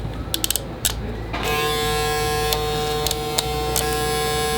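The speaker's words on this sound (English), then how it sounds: "Now let me loosen it." A StyleCraft Ergo hair clipper with its blade lever loosened clicks on and then runs with a steady, buzzing motor hum, close by, after a few small handling clicks.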